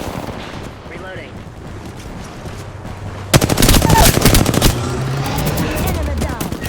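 Apex Legends trios match gunfire, a loud burst of rapid automatic shots after a quieter stretch, followed by lingering game noise and in-game voice lines.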